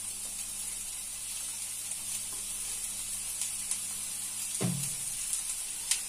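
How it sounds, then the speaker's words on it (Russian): Onion and garlic added to a heated frying pan, giving a soft steady sizzle with a brief louder burst partway through and a few small clicks, all quiet and close. "И мы положим туда, значит, лук и чеснок."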